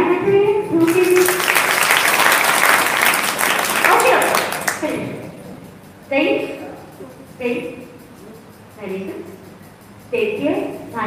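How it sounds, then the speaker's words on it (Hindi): An audience at a spiritual talk in Nagpur bursts into loud applause for about five seconds, then the clapping stops and a speaker's voice continues in separate phrases. "ताली बजाइए"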